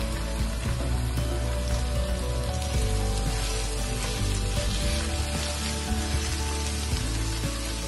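Half a kilo of minced meat sizzles loudly and steadily in a pan with sautéed onion, garlic and carrot, a dense, continuous frying hiss heard up close without interruption or speech.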